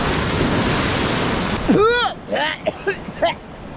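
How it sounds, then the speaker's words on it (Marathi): A strong sea wave crashing on a Konkan beach at Devbagh-Tarkarli, a loud close rush of surf and wind fading out midway as a man exclaims over it. "अरे अरे अरे बहुत जोरात लाट आली"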